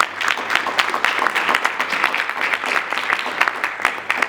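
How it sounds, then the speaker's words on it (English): Applause from an audience at a youth leadership program speech, a steady patter of many hands clapping, moderately loud and unbroken. "let's welcome him with a thunderous round of applause"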